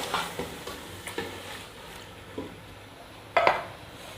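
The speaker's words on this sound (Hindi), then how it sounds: "अब इसको डाल के मैं इसको अच्छे से फ्राई कर लूँगी" About 1 kg of chicken is frying in a pan. A soft, steady sizzle runs under scattered light clicks and scrapes of stirring, and one sharper clatter of utensil on pan comes near the end.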